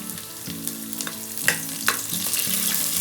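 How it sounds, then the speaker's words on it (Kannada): Green chillies frying in a pan for chicken biryani, a continuous close sizzle with scraping stir strokes and a few louder pops, no talking. "ಚೆನ್ನಾಗಿ ಫ್ರೈ ಮಾಡಿ."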